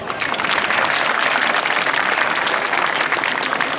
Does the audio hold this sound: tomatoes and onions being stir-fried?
no